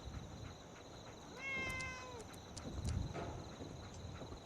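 Cats meowing in the Fallout 4 video game, a single drawn-out, wavering meow rising and falling over a low background hum, followed by faint thuds.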